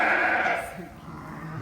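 A sheep bleats loudly and close by during lambing, with one long drawn-out call at the start followed by fainter calls and farmyard noise.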